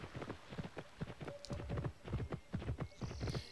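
Horse galloping in the video game Pippa Funnell Ranch Rescue: steady, rhythmic clip-clop hoofbeats up close with a brief whinny and a few electronic game tones over them.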